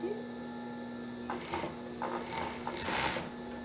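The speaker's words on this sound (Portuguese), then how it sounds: "Então, fecha na overlock." An overlock machine sews swimsuit fabric with elastic, running in short mechanical bursts of whirring stitches that swell near the end, close up over a faint steady hum.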